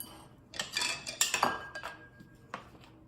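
Salt is stirred into food in a pot: a brief burst of metal utensil clinks and scrapes against the pot, close and moderately loud, over a quiet background.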